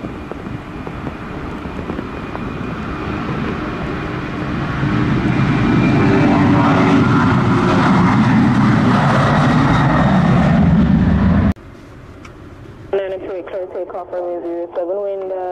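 A jet airliner takes off from runway 07 at Montego Bay in the rain. A broad engine roar swells and holds loud for about eleven seconds, then cuts to a radio-style voice transmission over a quieter background.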